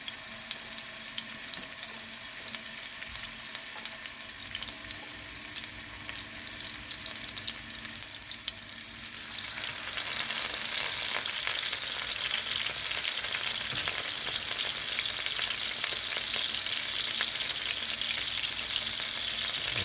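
Salmon sears in a pan over medium-high heat, a low hiss at first that swells about halfway into a louder, steady crackling sizzle, close and continuous with no talking.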